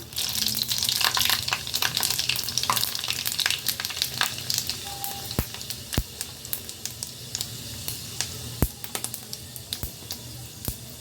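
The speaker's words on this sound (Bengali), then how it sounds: "এখন আমি এর মধ্যে দিয়ে দিব এক চামচের মতো পাঁচ ফোড়ন" Panch phoron spices sizzle and crackle in about two tablespoons of hot white oil in a kadai while preparing a pumpkin chhokka, a steady loud fry broken by sharp spitting pops and occasional stirring scrapes.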